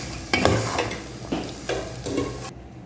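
Cabbage frying in a pan for a vegetable poriyal, a soft sizzle punctuated by four or five distinct scraping stirs in short bursts, falling silent at the end.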